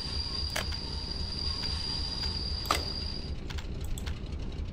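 A train in the video game Workers & Resources: Soviet Republic runs with a rumbling rail drone and a high steady wheel squeal, punctuated by a few sharp clicks as it comes to a stop.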